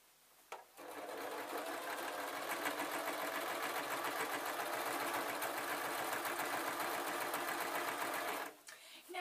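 A sewing machine stitches fabric for a saddle dust cover, a fast, steady mechanical whirr running for several seconds between brief pauses at the start and end, close and fairly quiet.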